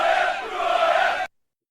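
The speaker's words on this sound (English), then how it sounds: "Fire up the crowd." A brief burst of crowd cheering plays as a sound effect, a dense, roaring mass of voices for just over a second before cutting off abruptly into silence.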